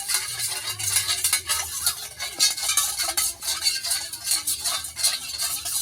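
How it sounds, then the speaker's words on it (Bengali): Sugar, salt, refined oil and water stirred together in a bowl with a spoon, a steady scraping and clinking swirl that runs continuously up close with no talking. "চিনি, তেল আর জলটা একসঙ্গে ভালো করে গুলে, লবণও একসঙ্গে গুলিয়ে নিতে হবে।"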